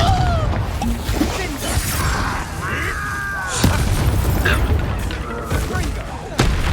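In a Hogwarts Legacy duel, Confringo and other combat spells go off as sharp blasts and crashes amid busy battle sounds, with spoken spell calls and character voices over the fighting.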